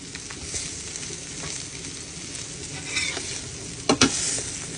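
Mackerel fry in a pan with a steady crackling sizzle, broken near the end by a couple of sharp clatters as the fish are turned over.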